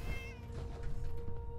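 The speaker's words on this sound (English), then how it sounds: "Right, he had a cat." A cat meows in the Fallout 4 video game, one drawn-out wavering meow followed by lower murmuring ambience.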